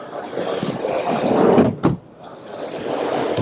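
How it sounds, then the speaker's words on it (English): Double sliding doors on a Toyota PROACE Electric van at a commercial vehicle show, one short sharp rolling thud near the middle, heard over steady crowd and hall noise. "Double sliding doors on this one."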